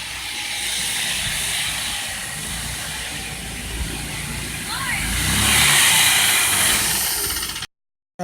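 A Club Car golf cart converted from electric to gas power runs on a test, its engine a steady roar with hiss that swells louder near the end before cutting out abruptly.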